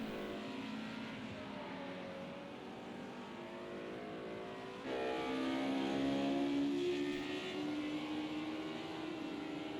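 A BMW race car engine in Project CARS 2 during a GT championship race at the Nürburgring GP circuit, a sustained droning howl that jumps louder and higher as the car accelerates partway through.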